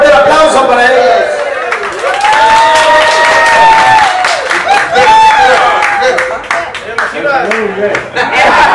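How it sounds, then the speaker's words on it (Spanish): An audience at a mariachi birthday party claps and cheers, loud dense applause mixed with shouting voices and bright sung or shouted calls throughout. "¡Fuerte el aplauso para ellas!"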